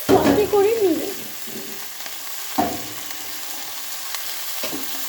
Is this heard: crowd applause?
no